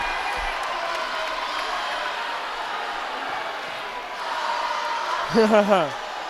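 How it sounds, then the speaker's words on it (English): A high school boys basketball playoff crowd in a gym cheers and murmurs under close speech, swelling near the end with a loud burst of whooping. "the crowd is going crazy"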